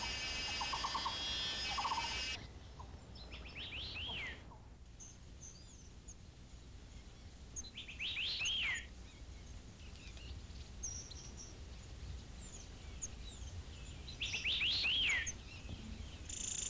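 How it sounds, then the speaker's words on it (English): White-eared sibias warble in a forest in Taiwan, with bright rising phrases in a few bursts over a steady insect buzz. The bird calls are moderately close and separated by quieter stretches. "The competitive warbling of the white-eared sibia often makes for unforgettable memories of evenings deep in the forest."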